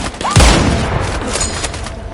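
A hostile sniper rifle fires once, a sharp loud crack with a deep booming tail, then a long rumbling decay under a noisy background.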